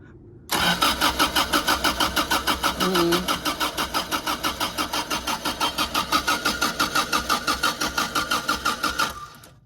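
Starter cranking on a Toyota MK1 MR2 1.6 engine with a suspected failed fuel pump, a loud close steady rhythmic whirring that runs for about nine seconds without the engine firing, then stops.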